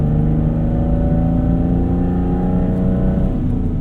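A 1992 Dodge Stealth RT twin-turbo engine idling steadily at about 2,000 RPM, a loud, close, even drone with a low rumble that stays constant throughout.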